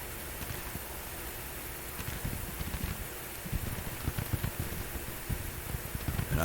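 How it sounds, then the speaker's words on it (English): Steady rain falls in the strategy game GTCW, a constant soft hiss with scattered low patters and thumps that grow slightly louder toward the end, with no voices. "it's raining out, so it's hard to hear anything"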